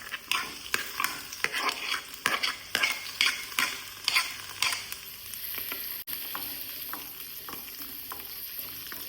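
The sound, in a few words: sautéing onion and tomato in oil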